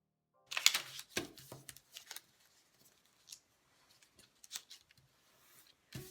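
Several crisp scissor snips cutting folded paper for kirigami, close and quiet, a quick cluster of cuts at the start followed by sparser single snips and light paper handling.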